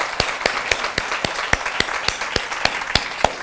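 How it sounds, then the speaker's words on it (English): An audience at an evening event about women's issues applauds, with scattered claps forming a loose crowd texture under sharper, regularly spaced louder claps from one nearby person. "Give Karen a round of applause."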